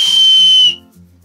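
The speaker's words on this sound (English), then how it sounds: "A well-working whistle." A single loud, shrill blast from a plain plastic survival-kit whistle cuts off abruptly, leaving a quiet low hum afterward.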